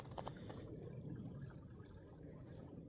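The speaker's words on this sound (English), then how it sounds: "Running water there." Faint, steady trickle of running water from a culvert at a snowy winter campsite in Canadian cold, a low continuous burble heard from close by with no voices.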